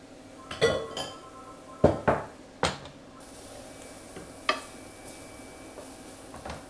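Mushrooms being folded and stirred in a frying pan, heard as a handful of sharp utensil clinks and scrapes against the pan spread apart, with quiet kitchen background between them.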